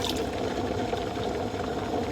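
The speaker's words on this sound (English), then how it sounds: "You dump out that water" Hot water is poured out of a Chemex coffee maker in a dense, continuous splashing rush that stays even and fairly close throughout, with no voices.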